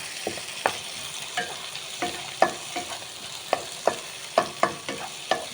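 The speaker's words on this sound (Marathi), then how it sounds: "तितून टोमाट घालपाचें आनी बरें भाजपाचें" Onion, tomato and mushroom fry in a pan for a Goan mushroom xacuti, a steady sizzle broken by a dozen sharp scraping clicks as a spoon stirs and taps the pan at an uneven rhythm, close and clear.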